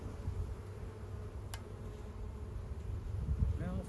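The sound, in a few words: honey bees buzzing around hives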